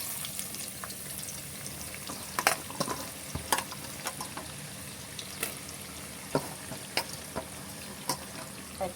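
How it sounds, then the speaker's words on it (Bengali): Onions, about 500 grams, frying in oil until deep brown, a steady sizzling hiss with scattered clicks and scrapes of a spatula stirring them in the pan. "পেঁয়াজটা বেরেস্তা করে নেব। লাল লাল করে ভেজে নেব।"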